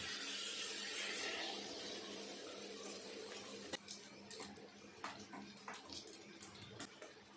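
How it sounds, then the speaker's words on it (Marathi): Water pours into a pan of whole masoor lentils, a steady close rush for about four seconds that thins into lighter splashes and a few soft clinks of the pan. "आपण इथे आता मसूर टाकून घेऊया ह्याच्यात पाणी पण टाकून घेऊया"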